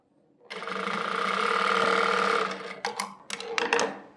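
A sewing machine stitches a sleeve onto the shoulder of a shirt, running in one steady, close burst of about two seconds and then giving several short, choppy stops and starts.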